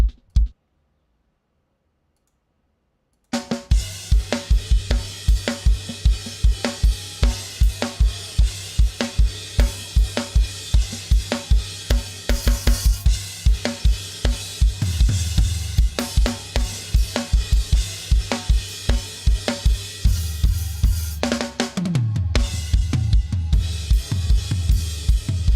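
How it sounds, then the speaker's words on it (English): Rapid, punchy drum hits play back through an audio plugin after a few seconds of silence, a dense steady groove with sharp transients and a brief break near the end, with no talking. "let me listen to all the drums"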